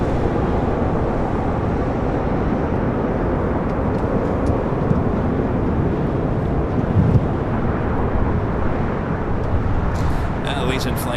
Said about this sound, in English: Legion flight coming in from Bellingham. It's an A319.